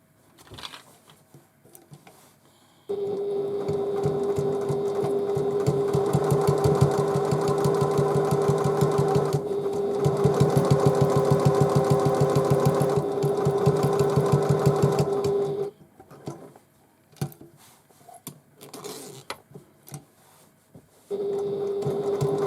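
A sewing machine runs a long continuous stretch of top stitching on a tote bag lining, a loud steady motor whir with rapid needle ticks, stopping briefly partway and again near the end, with quiet handling sounds in the pauses.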